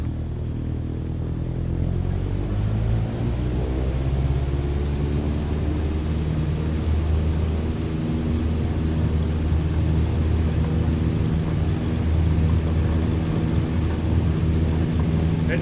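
An airplane in Microsoft Flight Simulator 2020 rolls down a big runway for takeoff, its engine a steady, close, droning roar that holds an even level throughout.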